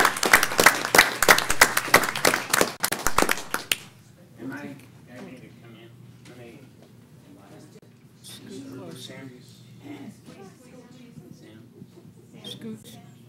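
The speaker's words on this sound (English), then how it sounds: "And please give them a round of applause." Audience at a council meeting applauding loudly, dense clapping for about four seconds that stops abruptly, followed by quieter room murmur and people talking.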